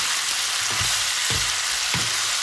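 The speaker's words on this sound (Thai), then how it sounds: "เราก็ผัดให้ต้นหอมสุกนิดนึงนะคะ" Minced pork and spring onions with a basil-like aroma being stir-fried in a pan, giving a loud, continuous sizzle close up, with a few soft scraping strokes from the stirring.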